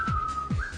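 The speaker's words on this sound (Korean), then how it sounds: "휘파람을 불어주면 이제 말들이 좀 더 마음을 안정을 할 수 있어서" A person whistles to calm horses at a stable, two short falling whistle notes, then a sustained tone rising at the end, close and clear with no talking.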